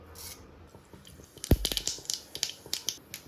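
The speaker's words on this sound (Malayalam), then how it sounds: "അതിലോട്ട് എണ്ണ ചൂടായതിനു ശേഷം നമുക്ക് കടുക് ചേർക്കാം." Mustard seeds dropped into a little hot oil in a pan burst into quick, faint popping and crackling, a scatter of sharp small snaps close by after a quiet start.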